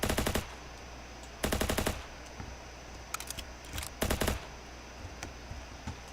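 Bursts of automatic gunfire in the video game Ancient Warfare 3, set in low-gravity winter combat: three loud rapid-fire volleys separated by scattered single shots and clicks, with no talking.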